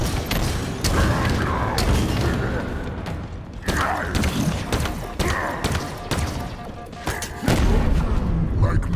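Halo campaign combat on Legendary, with heavy booms and thuds of a grenade blast among gunfire and mechanical clatter, loud and close, while someone talks over parts of it.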